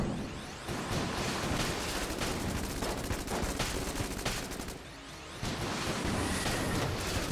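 Heck Blaster gun in Enter the Gungeon firing in a rapid, continuous automatic stream inside a small room, loud and unbroken apart from a brief lull near the end.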